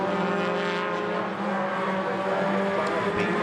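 Sports 2000 race cars circulating at Donington, a loud sustained engine drone with layered harmonic whine holding steady throughout, sounding close by.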